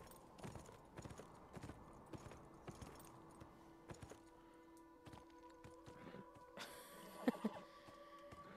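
A horse's hooves clip-clop in a steady walking rhythm at moderate distance in a video game, with tonal game sounds rising near the end and a brief louder thump.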